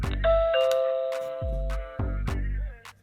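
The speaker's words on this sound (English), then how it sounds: "someone walks up to your door and presses the doorbell" An ANYFREE electronic doorbell chime rings a melodic sequence of clear tones, repeated twice with short pauses, loud and close.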